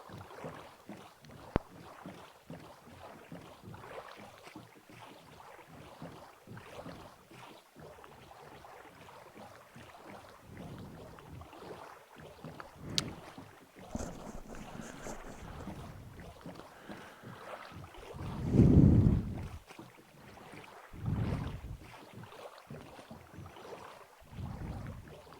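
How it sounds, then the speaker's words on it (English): Oars paddling a small rowboat through water in Minecraft, soft rhythmic splashes under a low wash of wind, faint and steady, with one louder splash surge near the end; no speech. "Very soothing, the rowing, even when it's not in unison."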